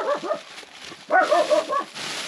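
Several puppies whimper and cry in high, wavering bursts, with a short lull in the middle before a louder cluster of whines, close by.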